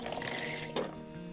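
Water poured gently over wool layers during wet felting, a soft continuous splashing trickle with a brief louder gush near the end, no voices.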